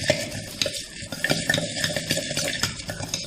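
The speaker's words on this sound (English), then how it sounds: "Now on this stage you add puffed rice mixture and mix it very fast." Fast, rhythmic scraping and clinking as a puffed rice snack mixture is stirred quickly in a pan, a busy close stirring clatter with a faint sizzling hiss underneath.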